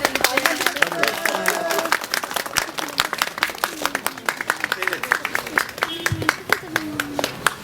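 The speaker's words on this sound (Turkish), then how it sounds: "Hadi alkışlıyoruz." Crowd applauding at a children's festival ribbon cutting in Kırklareli, a sustained burst of many hands clapping with scattered voices and someone speaking over it.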